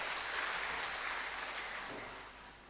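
Steady applause from a crowd filling a large church during an HKBP ordination service, sustained and fairly loud, tapering slightly toward the end.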